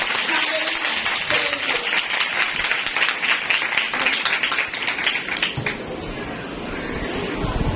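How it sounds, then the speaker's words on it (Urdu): A church congregation claps loudly and continuously for Jesus Christ, a dense roomful of hands at full volume that thins slightly toward the end. "ایک دفعہ پھر خداوند یسوع مسیح کے لیے زوردار تالیاں بجائیں"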